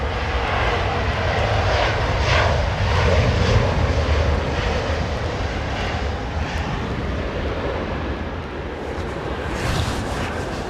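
An airliner lands in a gusty crosswind with rain and a wet runway at London Heathrow Airport. Its engines give a loud, sustained roar that swells and fades slightly, with wind noise throughout and no voices.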